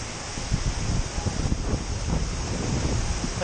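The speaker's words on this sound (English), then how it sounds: "Splashdown!" A Ray Rush water ride boat at splashdown, heard as a steady, loud wash of rushing and spraying water mixed with wind buffeting the microphone throughout.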